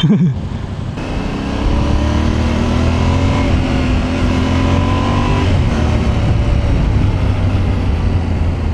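A Yamaha Tenere 700 motorcycle with a 689cc engine is ridden, its loud, close engine note climbing and falling through the gears in a steady drone, with no talk over it.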